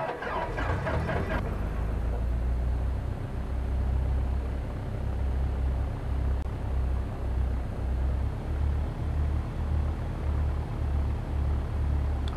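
A Cessna 172 Skyhawk Bush Kit engine in X-Plane 11 runs at low throttle, a steady droning rumble with a faint rhythmic pulse, preceded by a short burst of clattering startup noise.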